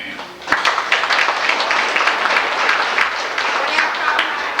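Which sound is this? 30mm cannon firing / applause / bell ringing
applause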